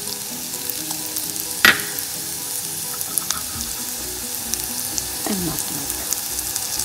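Lamb and spices roasting in a pan for a vindaloo lamb stew, a steady low sizzle and fry running throughout, with a sharp clatter near the start and a brief voice speaking.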